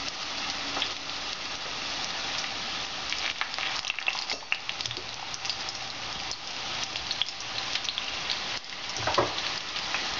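Butternut squash pieces fry in a pan with a steady, close sizzle and crackle, faint clinks of handling now and then, and no talking.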